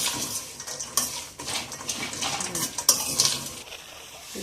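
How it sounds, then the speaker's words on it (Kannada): Spoon clinking against a plate and pan while transferring fried poppy seeds and cardamom in a home kitchen, a run of close metallic scrapes and taps with a faint sizzle underneath, no talk. "ಇದನ್ನ ಬೇರೆ ಒಂದು ಪ್ಲೇಟ್ಗೆ ನಾನು ಟ್ರಾನ್ಸ್ಫರ್ ಮಾಡ್ಕೊತಾ ಇದ್ದೀನಿ"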